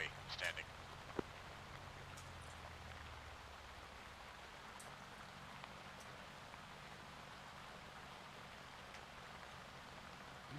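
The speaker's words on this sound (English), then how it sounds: "I'm not hearing much over the rain" Steady soft hiss of rain in Arma 3, a faint even patter throughout with a few brief ticks, beneath quiet background noise.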